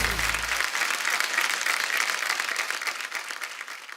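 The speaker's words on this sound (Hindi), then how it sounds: "इनके लिए जोरदार ताली।" Studio audience on a Hindi comedy talk show giving loud, sustained applause for a contestant, a thick continuous wall of clapping with some crowd noise mixed in.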